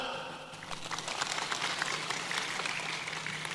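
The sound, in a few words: congregation applause in church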